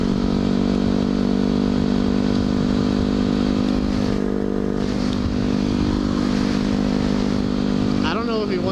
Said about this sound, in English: He wanted me to hop on the back of his bike